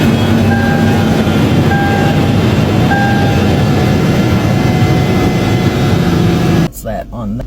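A cold truck engine runs with a loud, steady droning rumble and faint whining tones. The sound drops away near the end as a voice briefly cuts in.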